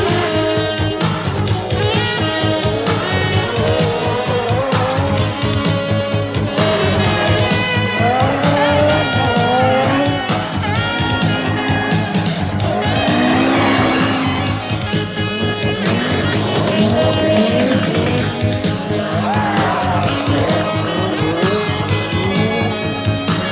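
Peugeot 205 Turbo 16 rally car at full race pace, a loud continuous engine roar rising and falling through gear changes, with tire squeal and skidding, dense and unbroken under a music-like wash.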